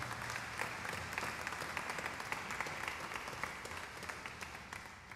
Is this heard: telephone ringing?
no